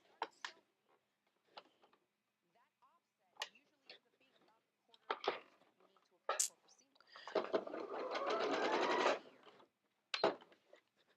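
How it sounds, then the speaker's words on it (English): A sewing machine stitches quilt fabric in one steady whirring run of about two seconds, close and clear, set among scattered clicks and handling sounds of the quilting setup. "we're going to sew all the way down"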